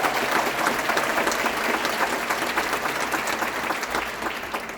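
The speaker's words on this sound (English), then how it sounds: "Julio, big round of applause." An audience at a theatre season reveal and tenth-anniversary event gives a full round of applause, dense and steady clapping that fades slightly toward the end.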